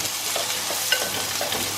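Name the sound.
onion frying in pan with cumin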